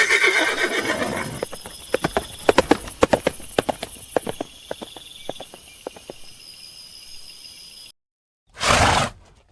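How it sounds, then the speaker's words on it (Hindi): Horse whinny with a burst of clip-clopping hooves on a hard surface, fairly close and loud, followed by a quieter ambient stretch and a short loud burst at the end. "रात में चतुरानन ने धनपाल के दामाद का बहुत ही कीमती घोड़ा चुराकर"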